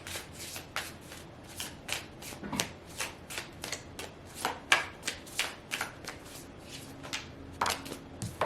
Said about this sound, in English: I'm going to shuffle this, and then I'm going to pull from the top.